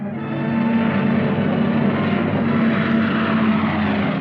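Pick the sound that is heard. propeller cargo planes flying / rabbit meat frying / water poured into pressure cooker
propeller cargo planes flying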